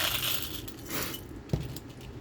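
Small buttons handled close by for a craft folio, giving quiet light clinks and rattles, with one sharper click near the end; no talking.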